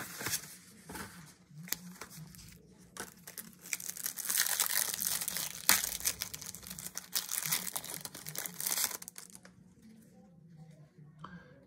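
Foil wrappers of Magic: The Gathering Secret Lair card packs are torn and crinkled close up, in irregular bursts that swell in the middle and fade toward the end.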